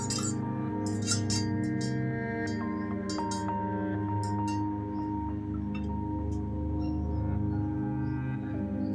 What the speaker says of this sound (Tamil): இப்போ இதை நல்லா மிக்ஸ் பண்ணி விட்டுருங்க.